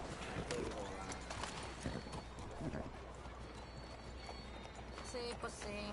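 Horse hooves clip-clopping in the video game Red Dead Redemption 2 at night, a quiet rhythmic trot heard faintly beneath someone talking.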